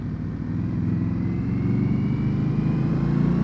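Indian Scout motorcycle engine rumbling steadily while riding in second gear at just over 3000 rpm, a loud, even, relaxed low drone with no talk.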